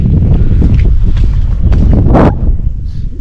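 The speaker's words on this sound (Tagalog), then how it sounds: "Ang lamig na hangin dito." Steady cold wind rumbling and buffeting outdoors at a campsite, loud and continuous, with a brief louder gust or rustle near the middle.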